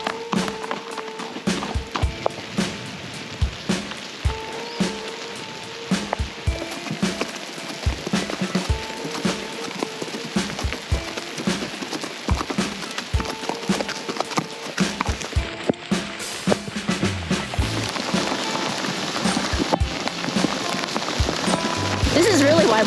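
Rain and sleet pelt on helmets in a steady patter of sharp taps during a horseback ride in Cotopaxi National Park, Ecuador, with gusts of wind and voices talking at times.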